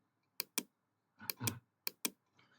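Six quick, sharp key clicks on a computer keyboard, grouped in pairs with short pauses between, close and fairly quiet in a silent room.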